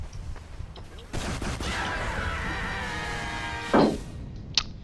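A minigun in Team Fortress 2 whirs as it spins up, then fires a rapid, continuous stream of shots at close range, ending with a couple of sharp hits, while a player's voice comes faintly underneath.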